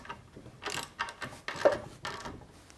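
Socket ratchet tightening 3/8 nuts with a 9/16 socket on the rear legs of a wooden pinhead shave horse, a few bursts of quick clicking close by, separated by short pauses.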